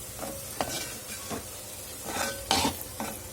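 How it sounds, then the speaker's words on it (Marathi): A spoon stirs okra thecha with chopped coriander in a pan, soft scraping clinks against the metal in a few irregular strokes over a faint sizzle, with no talking. "आपण यामध्ये बारीक चिरलेली कोथिंबीर घालून घेणार आहोत आणि छान याला मिक्स करून घ्यायचं आहे"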